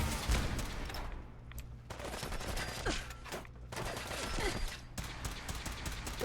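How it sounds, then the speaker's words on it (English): Missile launcher fire in the video game Fallout 4 rings out as a run of sharp, loud blasts and bursts amid mechanical clatter over a dense, busy game soundscape, with no talk. "I guess missile launcher can work."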